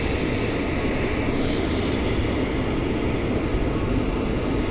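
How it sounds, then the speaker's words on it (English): A helicopter hovers over a New York City street near the Williamsburg Bridge while refueling by hose, producing a loud, continuous engine and rotor roar that holds steady throughout, heard outdoors from street level with no talking. "I don't know why he has to keep the engine on while refueling"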